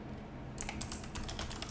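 Computer keyboard typing, a quick run of light clicking keystrokes close by with no voice over them.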